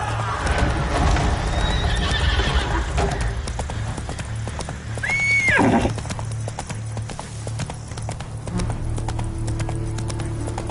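Roach, the horse in The Witcher 3, gallops with rapid clip-clopping hooves, then lets out a loud, close neigh midway before the hoofbeats carry on over a low background hum.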